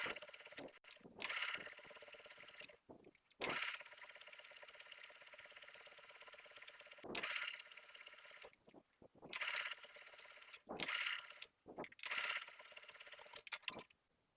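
A sewing machine stitches a straight seam across knit bodice fabric in several bursts of rapid, even mechanical whirring separated by short silent pauses.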